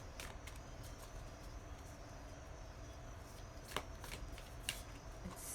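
A deck of cards is shuffled for a reading, soft riffling and sliding with a few sharper snaps, quiet and close against faint background hum.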